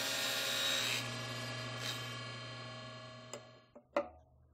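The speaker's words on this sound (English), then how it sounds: "I decided to put a special blade in my saw that's made for cutting metal, and I'll do the cuts on here" A power saw fitted with a metal-cutting blade runs through a rod, loud and steady for about a second before winding down, followed by a few sharp clanks of metal near the end.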